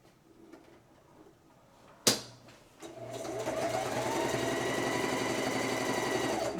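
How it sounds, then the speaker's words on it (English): A sewing machine top-stitching a canoe-style stocking: a sharp click, a short pause, then the motor whirs up into a steady, close, continuous stitching hum that runs to the end. "Now I open it up, and I'm going to top stitch."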